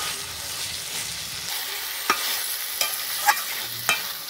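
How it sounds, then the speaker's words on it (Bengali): Desi chicken meat is stirred and sautéed in a pan, a steady soft sizzle running throughout with a few sharp scraping clicks of the spoon against the pan, close and without any talk. "মাংসটা দিয়ে ভালো করে নাড়াচাড়া করে কষিয়ে নেব"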